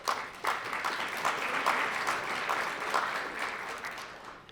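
An audience at a business breakfast during a legislative summit claps in sustained, even applause that fills the room, then thins slightly toward the end.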